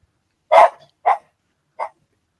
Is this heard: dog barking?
yes